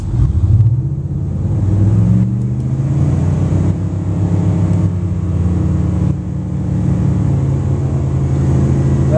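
Boat engine at a dock revving from idle up toward about 4,000 RPM, a loud, close, steady droning roar with rising and shifting pitch, running continuously with no talk.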